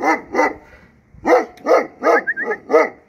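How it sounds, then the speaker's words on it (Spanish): A small pet dog barks loudly at close range in a home where bees are kept, giving two quick barks, a pause, then a run of about five sharp barks with a brief whimpering yip between them. "Cuando un perro ladra muy fuerte, wow, wow, wow."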